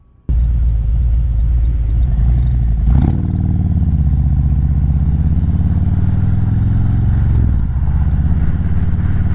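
A motorcycle cruises on the road with a loud, steady low engine rumble and wind buffeting close to the rider, with brief shifts in pitch as it changes gear and no one talking.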